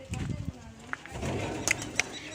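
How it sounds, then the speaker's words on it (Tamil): Pigeons cooing inside a cage on a farm, soft low murmuring calls mixed with other birds and background voices nearby. "எல்லா புறாவும் அந்த கூண்டுல இருக்கு பாருங்க"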